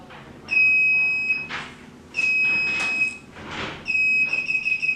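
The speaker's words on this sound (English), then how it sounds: "you hear the 3 beeps" An electric TV cover motor gives three separate electronic beeps, each a steady high tone lasting about a second with short pauses between, heard over a low background hum.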